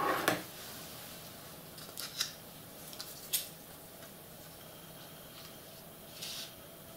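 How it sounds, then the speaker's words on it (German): Scissors snip a few times during model railway layout building, giving short sharp cuts spaced irregularly in a quiet room with no talk. "Könnte ich mal eine Schere für brauchen."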